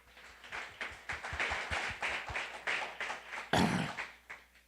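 A church congregation clapping during a worship service, a run of rhythmic, fairly even claps with a louder burst near the end, moderately distant.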